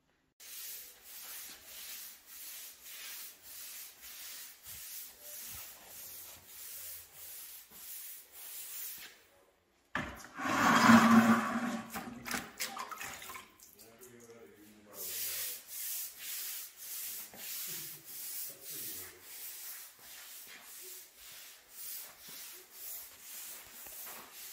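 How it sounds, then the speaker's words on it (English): Primer is brushed onto a profiled concrete floor in a man cave being resurfaced: steady rhythmic scrubbing strokes, close and moderate, broken midway by a few seconds of heavier rough rubbing before the even back-and-forth strokes resume. "We'll brush the primer on, let that dry, and then we'll get ready to put the overlay on."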